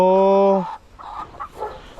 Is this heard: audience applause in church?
no